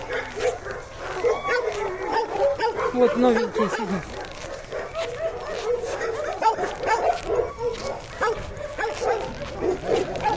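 Dogs at a shelter or kennel in Yakutsk yip, whimper and bark at feeding time, mixed with a man's speech throughout, busy and close.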